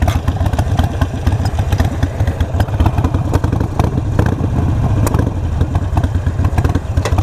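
A Harley-Davidson Iron 883 motorcycle with a modified tune idles loud and close, its rough engine chugging in a steady uneven rhythm. Mechanical clatter runs through it, and no one speaks.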